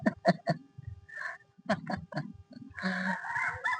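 Chickens on a farm cluck and squawk close by in short choppy bursts and a few longer drawn-out calls, some overlapping, with a voice speaking briefly among them.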